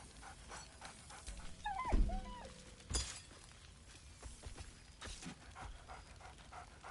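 Dog companion in a fantasy video game barks merrily a few times, with a sharp crash near the middle, heard over a steady game soundscape without talk.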